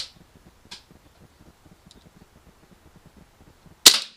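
Blowback shots from a KJWorks KP-09 CZ 75 airsoft pistol: a few sharp, near cracks spaced apart, the last one loudest, with quiet mechanical ticking in between.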